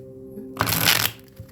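Tarot cards are shuffled in one quick riffling burst, close and crisp, lasting under half a second before fading to quiet.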